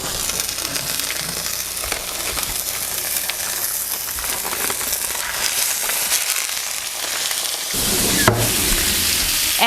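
Lean beef frying in olive oil in a pan sizzles steadily and fairly loudly throughout, with a crackling hiss that swells slightly near the end.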